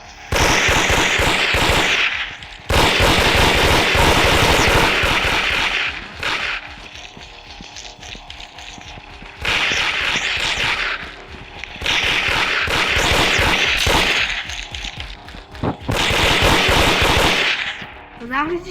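Video game pistol shots fire in rapid repeated bursts, loud and close, separated by short pauses across the whole stretch, with no talking over them.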